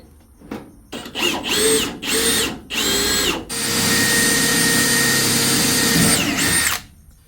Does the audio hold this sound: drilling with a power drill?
yes